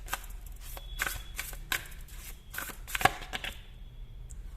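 A deck of oracle cards is shuffled by hand in bursts of close riffling and slapping, with short pauses between the flurries and no talk over them.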